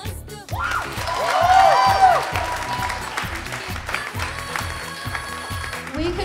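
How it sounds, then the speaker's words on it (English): Applause with cheering and whoops from the crowd at an Indian student cultural night, rising and swelling early then holding steady over a thumping rhythmic music beat, with voices mixed into the noise. "to give yourselves a huge round of applause?"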